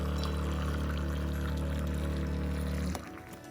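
Hot water pours steadily into a teapot with a rising tone as it fills, then stops abruptly near the end.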